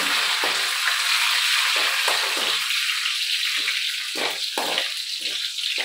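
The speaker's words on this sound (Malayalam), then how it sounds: "സവാള അണ്ടിപ്പരിപ്പ് മുന്തിരി എല്ലാം വറുത്തെടുക്കുവാണേ" Loud, steady sizzling of onions, cashews and raisins frying in hot oil, with scraping stirs and splashy bursts breaking through the crackle.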